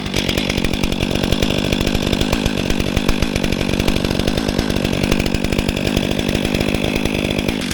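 A STIHL MS 500i fuel-injected chainsaw runs loud and close, its engine holding a steady, rapid buzzing throb without letting up.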